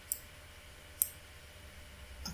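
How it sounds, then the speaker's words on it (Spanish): Computer mouse clicks while working in Vectorworks 2020 software, two sharp isolated clicks about a second apart, with a faint third click at the end, over quiet room hiss. "Seleccionamos estilo 1 y damos clic en OK."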